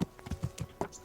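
Horse hooves clip-clopping in the medieval game Kingdom Come Deliverance, a quick run of soft, close, evenly spaced thuds, with no talk.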